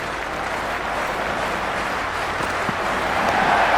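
A stadium crowd at a Cricket 26 India vs Pakistan T20 match roars and claps in a dense, continuous wash of noise that swells slightly toward the end.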